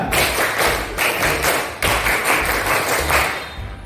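A group of people doing the Indonesian scout rhythmic clap, loud patterned bursts of hand claps and thumps in quick repeated sequences, close and without talk.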